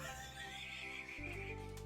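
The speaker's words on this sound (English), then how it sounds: "Horse noise." A horse neighs in one drawn-out whinny, fairly faint, that rises and then wavers before fading.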